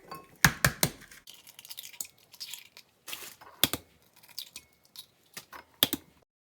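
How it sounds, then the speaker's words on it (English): Five eggs are cracked and dropped into a blender jar while making flan, giving a series of sharp, close taps, knocks and shell clicks in irregular bursts, with quiet gaps between them and no talking. "I am going to add the 5 eggs to my blender."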